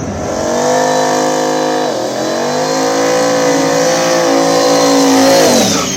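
Drag race cars on track at Mooresville, an outlaw small-tire Turbo Mustang against a Lexus SC import, engines revving loud and close with sustained throttle blips and a pitch dip midway before climbing again, no talk.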